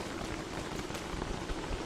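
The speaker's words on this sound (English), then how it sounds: "I can actually hear the rain pittering on my parasol there" Rain pattering steadily on a parasol in the video game Don't Starve, a dense continuous hiss of drops with no voices.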